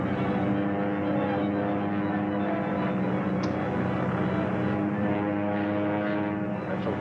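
A propeller airplane from a 1939 adventure serial drones steadily and loudly through the whole stretch, its engine hum even and continuous with no voices.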